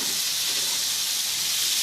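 Ginger paste frying in hot oil with potato and meal maker pieces, a continuous even sizzle and hiss that stays steady and close throughout.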